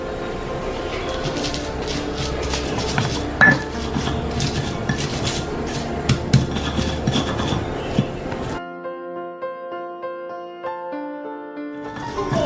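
Spices with salt and mushroom stock powder are ground in a stone mortar with a pestle, making a busy run of close, clattering, scraping strokes that stops and gives way to soft background music.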